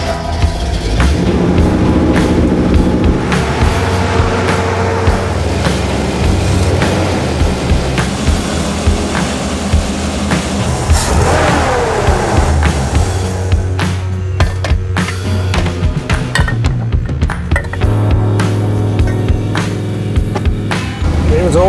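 A 1955 Chevy Bel Air engine cranking over and catching, loud and close, with a dense mechanical churn, a rising whine and then an uneven running rumble with sharp ticks near the end.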